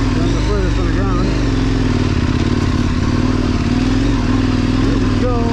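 A KTM 1090 motorcycle engine runs steadily at close range while riding offroad, a loud continuous drone with gear-like harmonics shifting slightly, with a voice talking over it throughout.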